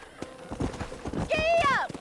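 Quick rhythmic hoofbeats of a galloping horse in the video game Red Dead Redemption, joined by a rising and falling whinny-like tone near the end.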